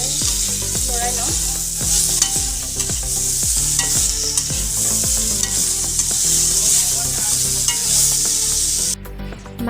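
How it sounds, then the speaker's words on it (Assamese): Pork for a boiled Assamese meat dish is stirred hard in a hot pan, loud sizzling under quick, rhythmic scraping strokes of a spatula. Close and busy throughout, stopping abruptly near the end, with no talk. "এতিয়া ভালদৰে লৰাই লওঁ"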